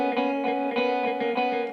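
A sustained tone runs through a tape delay effect with feedback raised and tape drive pushed, in a psychedelic funk mix; repeating echoes pulse roughly every half second over a thick, slightly distorted harmonic drone.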